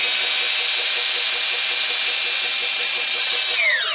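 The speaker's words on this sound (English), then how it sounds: "So with 1880 watts, this compressor still will not start." An electric air compressor motor strains to start on an inverter pushing about 1880 watts, giving a loud, steady high-pitched whine with a pulsing buzz that holds for several seconds before winding down at the end.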